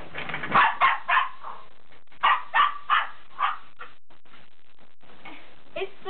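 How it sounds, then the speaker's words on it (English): A dog barks at window blinds in short clusters, several sharp barks each time, with quiet pauses in between. "watch how my dog barks at the blinds when I make noise"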